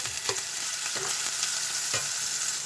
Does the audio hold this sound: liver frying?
yes